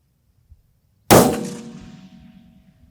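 A 6.5 rifle fires at a steel target about 700 yards out, giving one sudden, loud strike with a bright metallic ring that fades slowly over the next second or so.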